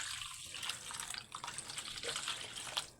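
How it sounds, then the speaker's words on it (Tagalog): Water poured into a container of seasoning mix for home-smoked milkfish, a steady splashing trickle with bright hiss, close and fairly quiet, continuing for about three seconds with no talking. "lagyan natin ng tubig para matunaw."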